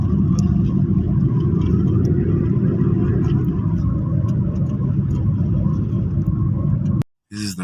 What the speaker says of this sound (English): This is the type of road that will destroy a car.